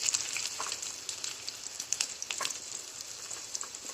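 Onion frying in a pan with mustard seeds and cumin, a bright continuous sizzle dotted with small pops and crackles, close and fairly quiet, with no talk.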